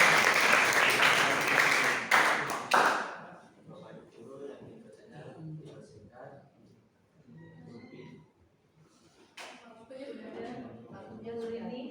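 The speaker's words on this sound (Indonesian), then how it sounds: "Oke, tepuk tangan untuk kelompok ini dulu." Classroom applause for a student group from a mechatronics class at a vocational high school, a loud burst of clapping that fades within a few seconds, followed by scattered talk and chatter in the room.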